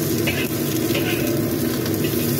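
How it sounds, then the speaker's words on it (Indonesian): Green beans sizzle in a hot pan as they are stir-fried, a continuous loud frying hiss with faint scraping of stirring, no voices. "lalu ini kita tumis hingga sampai semua tercampur rata"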